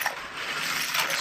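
Coins rinsed with soap and water in a kitchen sink, giving a brief, close wash of splashing, running water.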